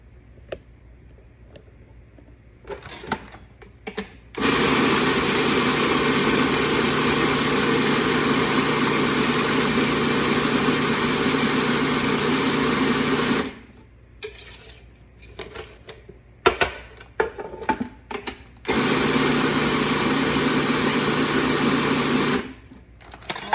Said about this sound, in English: So you just keep grinding it till it gets to the consistency you want.